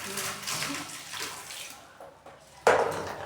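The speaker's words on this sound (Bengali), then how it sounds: "আমি এখন সবজিগুলো ধুয়ে দিচ্ছি এই সবজি এগুলো এখন ধুয়ে নিচ্ছি" Water runs from a tap as vegetables and spinach are rinsed, a splashing hiss that dips briefly midway and then surges louder and closer.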